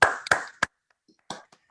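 A few scattered hand claps in a webinar as thanks to the organisers, three close, sharp claps and then a couple of fainter ones after a short pause.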